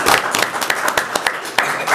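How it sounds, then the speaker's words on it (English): People at a city council meeting give a brief round of applause, a steady patter of many hands clapping at close range. "I didn't want applause, I just wanted to say that."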